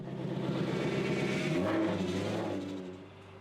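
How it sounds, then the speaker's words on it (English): A BMW E39 540i V8 engine drones under load with a low harmonic hum alongside its complaining power steering pump; the pitch steps up briefly midway, then the sound eases and fades toward the end, no talking. "we would get to enjoy the melodic sounds of the V8. Along with the less melodic sounds of the angry power steering pump"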